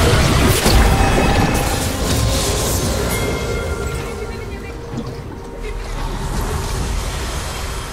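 An enemy turret crumbles in League of Legends with a heavy crashing boom near the start. The crash is buried in a dense, continuous wash of game effects.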